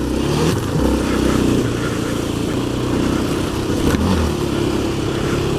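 A steady, low engine drone runs throughout, a quad bike puttering at low revs on dirt trails with a brief louder burst near the end.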